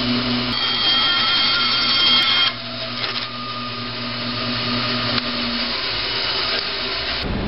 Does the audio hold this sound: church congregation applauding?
no